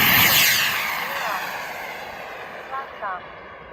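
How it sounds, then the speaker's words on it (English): A radio-controlled FreeWing jet fitted with a turbine engine roars past with a loud, hissing whine that fades as it moves away, followed by brief chirpy bursts of sound. "This is a FreeWing plane that he put a turbine in."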